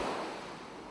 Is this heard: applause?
no